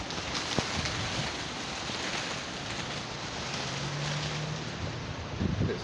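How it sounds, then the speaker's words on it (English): Steady roar of heavy rain and gusting wind during a severe thunderstorm in Byram, Mississippi, a dense continuous wash with no voices. "Here comes the rain."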